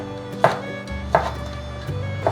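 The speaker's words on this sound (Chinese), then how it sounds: "把香菇头切片。" A knife slices vegan mushroom stems on a board, producing three distinct, fairly loud chops spaced well apart, close up with no talking.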